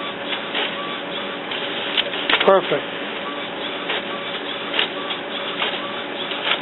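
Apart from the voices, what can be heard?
Epson Expression Premium inkjet printer printing pages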